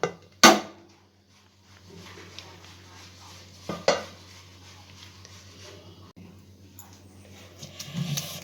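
Gongura dal being stirred and mashed in a pot: a couple of sharp utensil clanks against the pot stand out over a steady low background of scraping and soft kitchen clatter.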